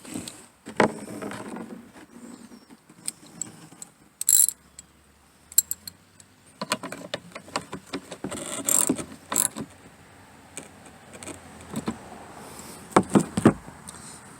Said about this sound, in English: Let me put the socket on the ratchet real quick.